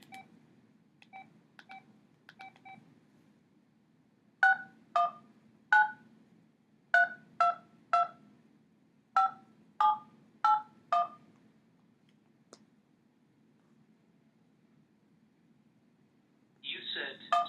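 Touch-tone keypad dialing a ten-digit phone number, crisp DTMF beeps pressed one at a time in quick bursts, loud and close, with a voice cutting in near the end.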